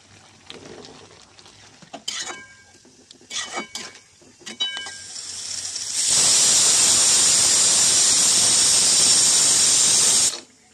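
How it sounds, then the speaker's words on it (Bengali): A pressure cooker cooking dal on a gas stove lets out a loud, sustained steam whistle for about four seconds, following quieter clinks and kitchen handling sounds. "ডালটাও আমার হয়ে গেছে, 2টো সিটি"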